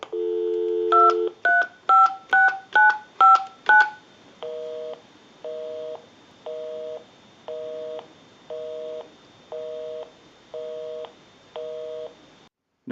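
Touch-tone digits beep quickly in a row on a converted Popeye telephone, about seven short tones, then a regular busy signal pulses on and off nine times, close and clear with no talking.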